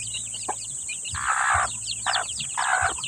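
Shamo and Indian Asel chickens in a coop make repeated clucks and throaty squawks in several short bursts, close by, over a steady background hum.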